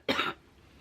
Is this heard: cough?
yes